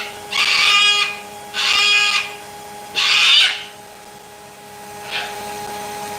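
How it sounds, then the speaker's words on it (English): A strong male cockatoo, a pet bird, gives three loud harsh screeching calls at steady intervals, then a fainter short one, heard alone in a room with a steady hum. "most cockatoo owners consider that noise to be irritating"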